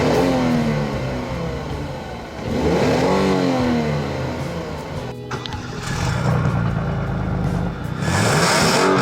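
A 2015 Hyundai Genesis sedan engine revs up repeatedly, rising and falling in several loud surges with brief dips between, close by and with no talking.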